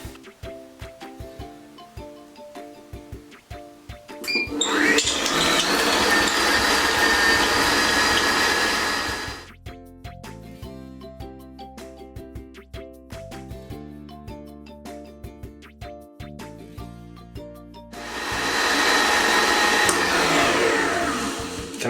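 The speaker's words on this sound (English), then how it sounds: "just put the mixer on at a fairly high speed and just leave it running" An electric mixer creams butter for a birthday cake at fairly high speed in two loud, whirring bursts, each several seconds long, with quieter clinking and handling noises between and after them.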